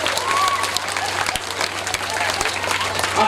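Applause for the chief guest at a school Independence Day program, a dense, continuous patter of clapping from a crowd with a steady low hum underneath and brief faint voices mixed in.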